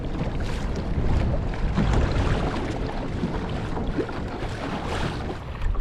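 Strong wind buffets the microphone near the water at a fishing spot, a steady loud roar with gusting rumble throughout and no speech.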